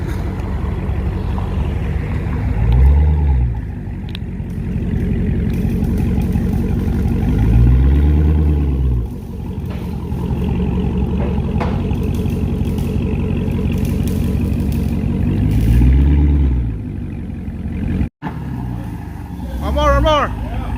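A Dodge Hellcat's exhaust fitted with Carven Type R mufflers idles in a steady low rumble, swelling into three or four short revs at intervals, with voices talking over it.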